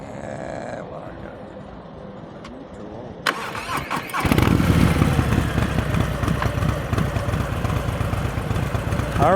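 A motorcycle engine starts up and then runs steadily and loud at low revs during slow-speed riding practice, with a quieter, idling stretch before the start; someone talks faintly over it.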